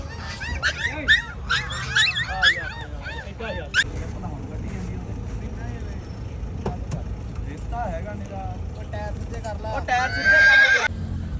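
Horses whinny several times in quick succession near the start, then again near the end, over background voices and passing traffic at the Muktsar horse fair.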